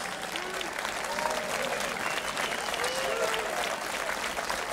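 A festival audience claps steadily for an orchestra, a continuous mass of applause at moderate level with a few scattered voices underneath, holding even for the whole stretch.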